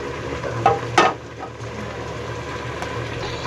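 Whole spices (bay leaf, black peppercorns, cloves and cinnamon pieces) frying in hot oil, a steady close sizzle with a couple of small clinks early on.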